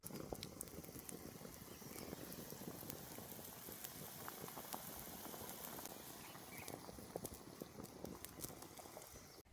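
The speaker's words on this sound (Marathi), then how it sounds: "आणि छान अशी भाजीला उकळी येऊन द्यायची" Village-style drumstick pod curry simmering in a pan with ground coriander and dal, giving a steady close bubbling patter that runs continuously and fairly quietly throughout.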